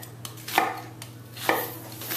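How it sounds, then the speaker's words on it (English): A knife cuts through an onion on a board, giving a few crisp, evenly spaced chops with a faint steady hum underneath. "Following that structure of the onion, cutting through."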